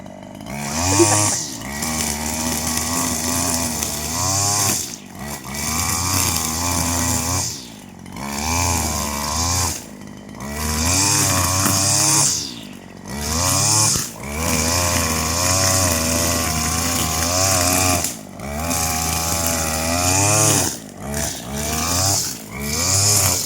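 Chainsaw cutting trees and brush while clearing an overgrown garden plot in the Konkan, loud and close, its engine revving up and down through repeated cuts with short idle dips between.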